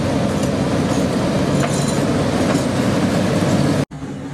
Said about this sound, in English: the locomotive finally arrived at the Marano Chrome station and then at the loading sidings.